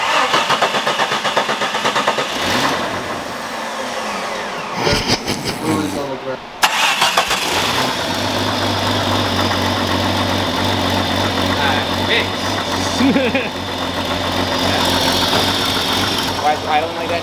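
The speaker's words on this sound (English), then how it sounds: "Why is it idling like that now?" A crew cab truck's engine cranks and fires up, then settles into a loud, lumpy rough idle with a steady low drone, while people talk over it nearby.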